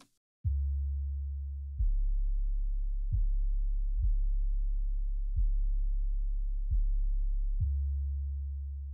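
A deep 808 bass shaved off around 20 Hz by a high-pass filter booms in seven sustained notes, each starting with a short click and then holding a smooth low tone, clean and loud with no talking.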